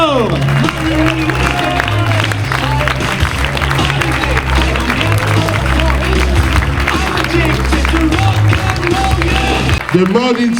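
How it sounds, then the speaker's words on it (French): An audience at a fashion show in Simorre claps loudly and without a break for about ten seconds, a dense wash of applause with crowd noise, music and cheering mixed in. "On applaudit très fort!"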